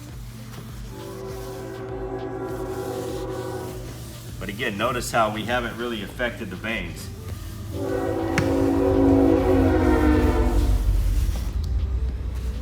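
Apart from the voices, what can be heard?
train passing with horn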